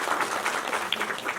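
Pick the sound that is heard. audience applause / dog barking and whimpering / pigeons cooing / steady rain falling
audience applause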